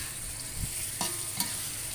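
Red and green chilies and tomato frying in a pan give a continuous close sizzle, broken by a few sharper scrapes and clacks as the spatula stirs, with no talking.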